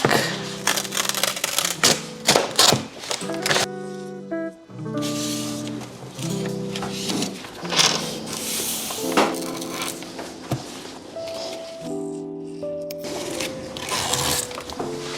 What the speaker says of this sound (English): I'm gonna rip some paper to kind of go across here.